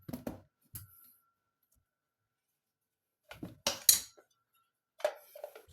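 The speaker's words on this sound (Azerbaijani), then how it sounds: "suyumuzu əlavə edib yaxşıca belə taxta bir qaşıqla qarışdıracağıq" A wooden spoon stirs water in a pot while Ganja sherbet is being made: a few close, scattered knocks and scrapes against the pot come in short bursts, with long quiet gaps between them.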